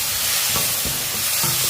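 Tomato and chilli powder sautéing in a pan, a steady soft sizzle with stirring scrapes and a few louder clatters, close and continuous with no talking.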